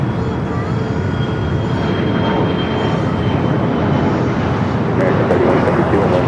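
An American Airlines A321neo comes in to land on runway 25 left at LAX, a loud, continuous broadband jet roar that stays steady and close, with a faint higher whine above it.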